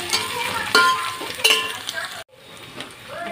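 Masala paste dropped into a pan of browned onions, bursting into loud, close sizzling with spoon scrapes and clinks, then a brief cut before a quieter sizzle continues.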